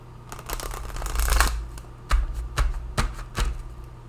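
A deck of cards is shuffled by hand, a riffling burst followed by several sharp separate taps and snaps as the cards are squared and cut, close and clear without speech.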